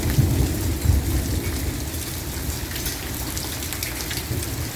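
Rain falls with a low rumble of thunder during a spring storm that brings pea-sized hail, a steady close hiss over deep rolling rumble that fades early, with no voices.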